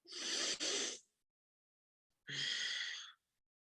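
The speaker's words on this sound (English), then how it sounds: "Just big deep breaths in and out through the nose." Two deep, slow breaths rush audibly through the nose, each about a second long with a quiet pause between, close and soft in a calm self-care relaxation setting with no talking.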